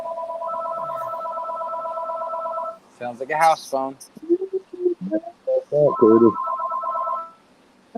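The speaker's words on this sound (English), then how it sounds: "Sounds like a house phone." A house phone on a porch rings in two long electronic trills, the first before someone speaks and the second cutting in over more talk, then stopping.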